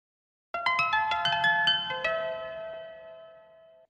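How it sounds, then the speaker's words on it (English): A bright plucked synth harp made in the Vital synthesizer runs up a quick arpeggio of notes, then the final tones ring and slowly fade out. "And that is our completed harp sound."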